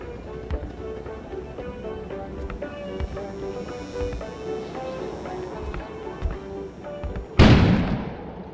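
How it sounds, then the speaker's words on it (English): An explosion goes off outside in the video game Kona, a sudden loud blast that breaks in near the end over a busy, clattering ambient and music background, then lingers in a rumbling decay. "An explosion suddenly occurred outside."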